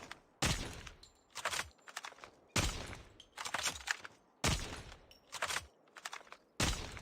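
Repeated bursts of gunfire from a Call of Duty Mobile tournament match, sharp loud volleys recurring roughly every second or two with scattered smaller shots and clatter between them, no talk over it.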